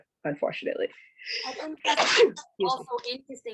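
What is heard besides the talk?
sneeze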